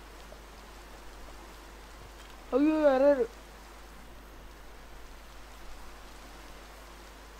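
Steady, soft rain hiss falls in Minecraft throughout, and a brief spoken exclamation cuts in near the middle.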